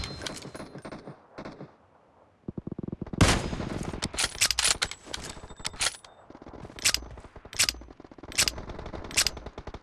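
Gunfire in PUBG Mobile: after a quiet opening, a loud burst of shots breaks out and is followed by repeated sharp, crisp bursts at close range with short gaps between them.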